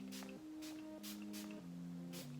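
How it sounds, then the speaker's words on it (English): Several short hissing bursts of Bold Hold lace tint sprayed from a bottle onto the inside of a lace wig, each puff brief and close, over a steady background hum. "I'm gonna go ahead and I'm gonna spray on the inside"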